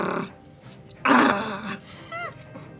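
A human voice growls in imitation of a dog, one rough, loud burst in the middle following a short bit of talk, with a few faint squeaky sounds trailing after.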